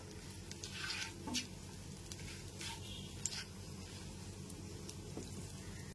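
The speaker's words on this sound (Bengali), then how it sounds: "গ্যাসের ফ্লেমটা লো টু মিডিয়ামে রেখে ফোড়নটা হালকা করে ভেজে নেব।" Cloves, cinnamon and cardamom fry gently in oil over a low-to-medium gas flame, a quiet, continuous light sizzle with faint crackles, soft and close.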